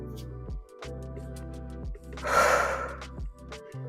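A single deep, breathy exhale during a 25-minute full-body home workout, rising briefly over steady background music that runs throughout.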